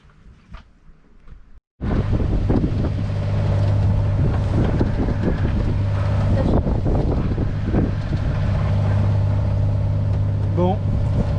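A sailboat's auxiliary engine drones steadily with strong wind noise at sea, starting abruptly after a quieter moment and running loud and constant to the end.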